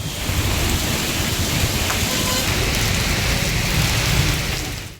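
Heavy rain pours down across Hyderabad neighbourhoods such as Jubilee Hills, Banjara Hills and Ameerpet, a loud, dense, unbroken roar of downpour lasting the whole stretch.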